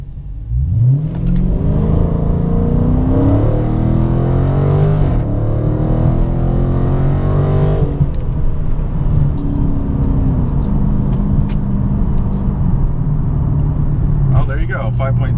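485 hp car on all-season tires launching hard in second gear, engine revving loud and close with a rising then sustained roar that eases off and settles, with a voice talking over it.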